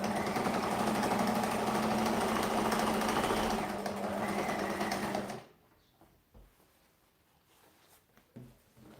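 Domestic sewing machine chain piecing fabric pieces for quilting, running in a loud steady whir for about five seconds before stopping abruptly, followed by quiet handling noises.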